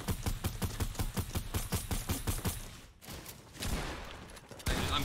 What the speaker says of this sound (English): I'm shooting in between all of them.